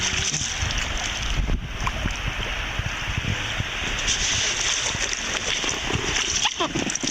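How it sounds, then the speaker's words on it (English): A kayak runs river rapids on the Spokane River, giving steady rushing and splashing water mixed with wind buffeting the microphone, loud and continuous throughout. "here comes the rapids."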